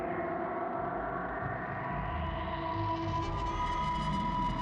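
A song played through echo and delay effects, dense sustained tones whose repeats smear into a thickening wash that rises in brightness toward the end, with no voices.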